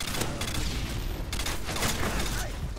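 Barrett rifle shots and noob tube grenade launches fill an online match of Modern Warfare 2 on Xbox 360, a dense, continuous barrage of loud gunfire and blasts with no pauses.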